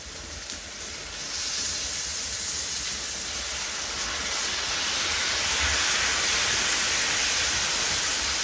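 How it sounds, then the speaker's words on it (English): Liquid stock pouring and sizzling into a hot pan of pepper steak pie filling, a steady broad hiss that swells slightly midway and holds at a fairly loud level, close up with no talk. "now I'm just going to add my stock"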